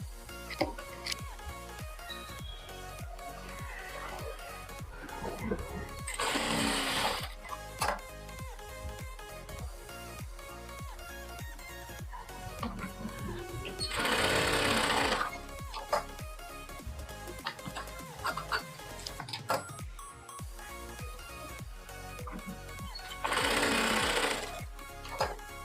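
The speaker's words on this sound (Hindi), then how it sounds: "इसी तरह हम पूरे पट्टी को सिलाई लगाएंगे।" An electric sewing machine stitches a blouse strip in three loud, steady bursts of rapid needle hammering. Between the bursts come quiet pauses with small clicks and fabric handling.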